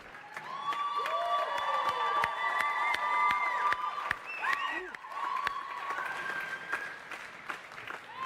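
Audience applause at an EA Sports FC 24 trailer reveal rises and falls in waves across the whole span, mixed with sharp claps, cheering and overlapping voices.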